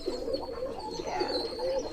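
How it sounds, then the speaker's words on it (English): Pigeons coo softly overhead near a chicken coop, a low repeated rolling call that rises and falls steadily for a couple of seconds, fairly close and clear. "There's pigeons up above."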